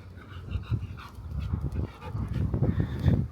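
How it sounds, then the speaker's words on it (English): A dog whimpers and whines in short, low, uneven bursts against steady wind noise outdoors on a Brooklyn street during a heat wave. "That dog sounds like it needs some water."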